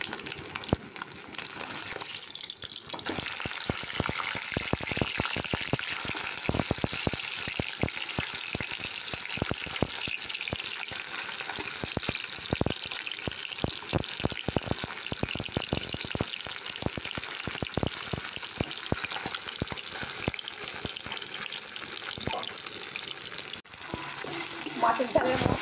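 Fish frying in a pan with a dense, steady crackling sizzle that runs close and continuous, peppered with sharp spattering pops throughout, with no voices over it.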